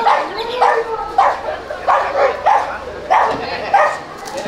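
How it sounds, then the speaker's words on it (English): Several dogs bark, yip and snarl in a scuffle at a busy street spot in Mexico, bursts coming in rough repeated waves at close range over a murmur of background voices. "but then you have all these dogs fighting"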